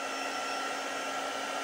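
A hair dryer blows steadily on a glued paper junk journal pocket, a loud, close, unbroken whooshing hum with no pauses.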